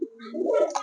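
Bombay pigeons giving a single soft throaty coo, close and fairly quiet, with no other sounds around it.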